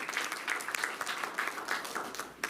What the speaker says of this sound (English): Give us her a round of applause.